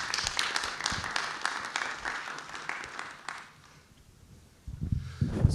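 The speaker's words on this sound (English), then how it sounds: "You can welcome him with applause." A live audience applauds to welcome a presenter onto the stage at a conference talk: dense clapping for about three seconds, then fading to near quiet before thumps and handling noise.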